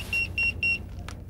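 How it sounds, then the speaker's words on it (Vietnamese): A phone sounds three short, evenly spaced high electronic beeps, fairly close and clear against a low room hum, with no one talking. "Khoan đã, tôi có điện thoại."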